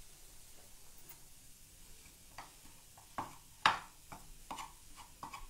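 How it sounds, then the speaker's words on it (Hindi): Grated khoya roasting in a pan gives a faint, low sizzle with scattered scraping and stirring clicks that come and go for several seconds. "इसे भी हमने 2-3 मिनट भूनना है अच्छे से"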